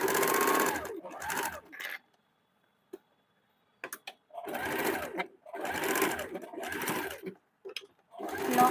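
Sewing machine joining the front and back shoulder seam of a two-piece blouse with piping, running in several close, even bursts separated by short silences; no talking.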